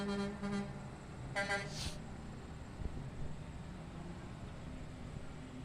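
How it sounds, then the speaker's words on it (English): A cement truck decorated with bright lights sounds its horn during a Christmas parade, two short tooting blasts over a steady rumble of engine and crowd noise. "the kids love the horn that they're honking"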